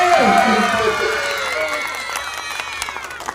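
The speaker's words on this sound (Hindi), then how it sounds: "एक बार जोर से ताली बजा दीजिए।" A crowd claps during the garland exchange at a wedding ceremony, the scattered claps building toward the end beneath voices and a tonal backdrop.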